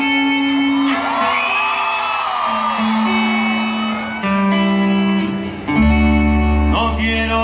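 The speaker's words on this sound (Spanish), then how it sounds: "grábele, José, el grito de la gente" A crowd at a carnival concert in Mérida, Yucatán, shouts and whoops loudly together in long sustained cries, the roar shifting and surging near the end, with music-like tones running underneath.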